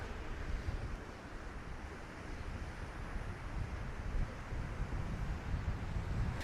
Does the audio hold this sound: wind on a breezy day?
yes